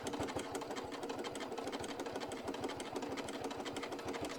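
Sewing machine stitching fabric slowly around a curve, a steady fast mechanical whir with rapid needle clatter, continuous and fairly faint throughout with no talk.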